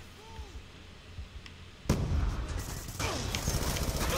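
Call of Duty Black Ops 2 sniper fire sounds as a sharp, loud shot and then more booming blasts and rumbling gunfire in quick succession, following a quieter stretch with faint background noise.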